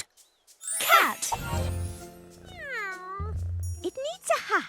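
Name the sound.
cat meowing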